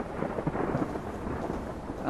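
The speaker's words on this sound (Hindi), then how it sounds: "बाहर बहुत तेज़ बारिश हो रही है" Heavy rain pours outside while thunder rumbles, making a dense, steady roar with no voices throughout.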